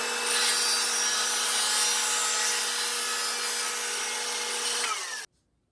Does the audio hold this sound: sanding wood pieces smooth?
yes